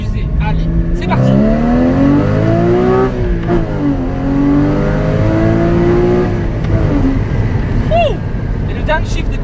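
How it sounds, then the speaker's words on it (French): A Porsche accelerates hard, its engine note rising in pitch through the revs, then dropping and climbing again, loud and close inside the car, while someone talks over it. "Donc là, je vais vous faire une première accélération"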